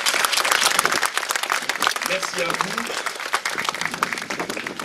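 A crowd applauds at a commemoration ceremony in Le Bourget for a monument on the abolition of slavery. The dense clapping runs throughout, loud and close, while a voice briefly speaks over it.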